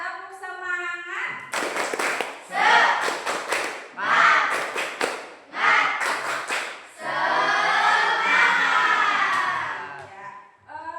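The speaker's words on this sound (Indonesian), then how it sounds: "Tepuk semangat." A grade seven class of children performs a rhythmic group clapping routine, bursts of claps in set patterns alternating with the kids chanting together in unison, fairly close and loud.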